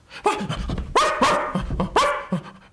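A small dog barks in a forest, several sharp, loud barks and yips at uneven intervals, close by and with no talk over them.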